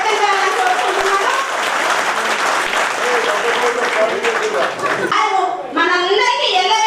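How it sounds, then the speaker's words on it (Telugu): An audience claps loudly at a village ration card distribution event in Telangana, sustained dense applause with voices talking over it toward the end. "ఒక్కసారి చప్పట్లతో మీ అందరూ ఆనందాన్ని వ్యక్తం చేయాలని కోరుకుంటున్నాను"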